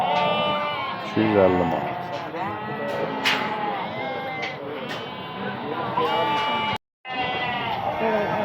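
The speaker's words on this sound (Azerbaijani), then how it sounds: "Əmlik quzulardır bax" Weaned male lambs bleat repeatedly at the Bərdə livestock market, their cries rising over a busy crowd while people talk nearby throughout.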